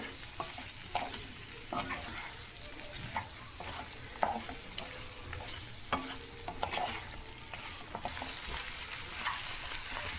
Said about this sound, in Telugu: మంచిగా బ్రౌన్ కలర్ వేగిపోయింది కదా మనకు మటన్ ఫ్రై అనేది.